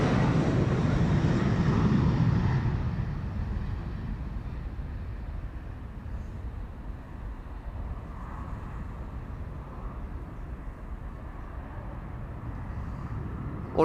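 A KLM Embraer 190 short-range jet departing Amsterdam Schiphol, a broad distant engine roar that swells loudest at first and then settles into a steady rumble as it recedes.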